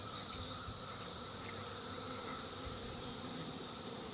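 Honeybees in a hive cutout give off a dense, continuous buzzing drone, steady and fairly close, with no voices.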